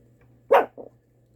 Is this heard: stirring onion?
no